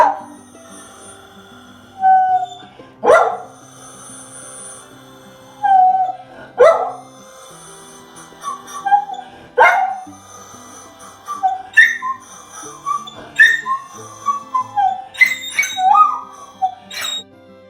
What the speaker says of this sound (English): I heard the tornado sirens going off, so I had to pause my voiceovers for my dog Pepper's weekly howl back.